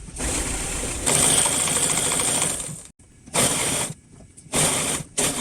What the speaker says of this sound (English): But just look how nice it is sewing.